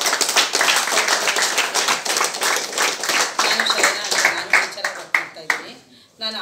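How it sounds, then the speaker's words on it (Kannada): A small indoor audience claps loudly in fast, crisp, dense hand claps that keep going for several seconds, then thin out and break off briefly before a few more claps near the end. "ಸೂಪರ್ ಸರ್, ಜೋರಾಗಿ ಚಪ್ಪಾಳೆ"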